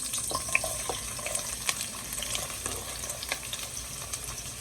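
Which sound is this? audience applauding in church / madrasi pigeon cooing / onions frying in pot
onions frying in pot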